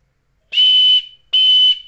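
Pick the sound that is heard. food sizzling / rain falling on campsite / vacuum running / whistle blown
whistle blown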